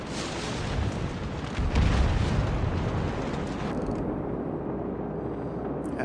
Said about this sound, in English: The ship is on fire.